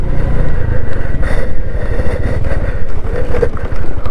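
A Honda Scoopy motorcycle climbs a hill on a coastal road, its engine loud and close with a steady pulsing drone, no voices.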